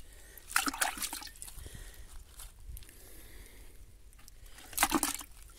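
A caught traíra fish is placed into a bucket of water, giving two short, faint splashes and sloshing bursts over quiet background trickling.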